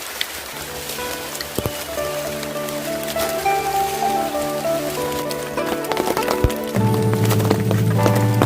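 Rain falling steadily on a garden hut in the countryside, a continuous patter of drops with scattered sharper hits. A low hum and other background noises rise toward the end.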